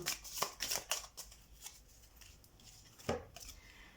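Tarot cards shuffled by hand in a quiet room, giving several quick papery riffles near the start, a calmer stretch, and another crisp burst of flicking and snapping toward the end.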